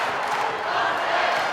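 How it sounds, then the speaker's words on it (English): A raucous crowd at a high school basketball regional final at Pocono Memorial Coliseum, a steady roar of cheering and shouting filling the arena. "It's a raucous crowd."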